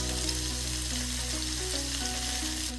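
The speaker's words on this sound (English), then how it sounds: "Now we can add the onions in, and the shallots, ginger and garlic." Onions, shallots, ginger and garlic fry in hot oil with whole spices, giving a steady, dense sizzle that runs unbroken, with soft music playing underneath.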